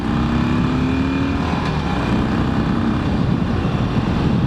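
A Harley motorcycle pulls hard under acceleration, its engine note rising and sweeping upward over a few seconds, loud and close against wind noise.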